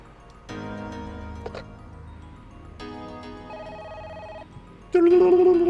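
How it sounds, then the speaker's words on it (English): A telephone rings in the Parasite Eve video game, sounding in repeated electronic bursts over a low background hum, followed by a louder sustained tone near the end. "Ooh, phone."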